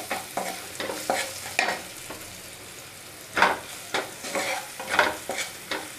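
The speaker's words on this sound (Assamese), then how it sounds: "আৰু ইয়াতে মই এতিয়া হালধি গুড়ি দি দিছোঁ আৰু নিমখো দি দিছোঁ। আৰু ভালদৰে এইখিনি লৰাই দিছোঁ।" Turmeric powder and salt stirred into khichdi ingredients in a pressure cooker, a spoon scraping and clacking against the metal in irregular strokes with a light sizzle underneath, close and moderately loud.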